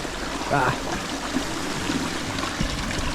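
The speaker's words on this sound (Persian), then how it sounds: "اینجا یه رودخونه دیگه." A mountain river stream flows with a steady rushing wash of water, close and continuous, while voices talk briefly over it on a muddy hiking trail.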